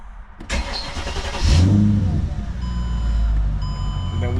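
A Mercedes CLK 500 engine cranks and catches, then settles into a steady, close idle during an oil change, with a faint high electronic beeping tone running over the running engine.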